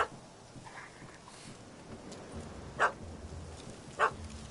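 A dog in the Witcher 3 game barks at a cat up a tree, two short sharp barks spaced apart and somewhat distant over a low outdoor ambience.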